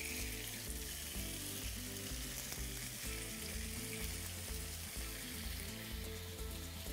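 Garlic slices and chicken pieces fry in oil and butter in a pan, giving a dense, continuous sizzle heard alone at moderate loudness, with faint steady music running underneath.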